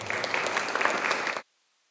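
A short burst of applause from the audience at a school board meeting, moderately loud and even, stopping abruptly into silence after about a second and a half.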